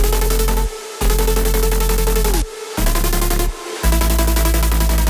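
Loud, dense synth chords built from saw and sine layers with FM and distortion, held in long blocks cut by short stuttering gaps and pumping dropouts, with no voices.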